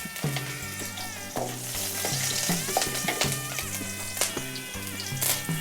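Green chilies sizzle and crackle steadily in a hot pan, a loud close frying hiss with intermittent stirring clatter and no voices.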